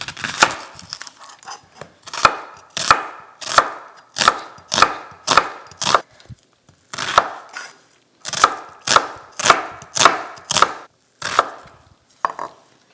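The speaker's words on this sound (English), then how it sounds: "Now we're going to cut the second onion." A knife chops through an onion on a wooden board in close, crisp strokes at a fairly steady rhythm, about twenty cuts in two runs separated by a brief pause, with no voices.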